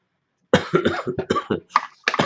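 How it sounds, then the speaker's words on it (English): A single person coughs several times in quick succession, close and fairly loud, a short burst of harsh hacks after a moment of silence. "I had to cough at the exact same time that you stopped"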